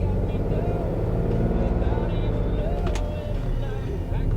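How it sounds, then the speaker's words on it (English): An old Dodge conversion van engine runs rough and is given some throttle, a steady, loud low rumble that stays close, with no talk over it. "Give it a little throttle."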